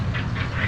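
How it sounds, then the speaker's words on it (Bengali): Domestic ducks in a village setting, a short burst of quacking heard amid steady low rumble and background noise, nearby but not prominent. "গ্রামে যেরকম হাঁস দেখা যায়, এখানে ওরকম হাঁস দেখা যাইতেছে।"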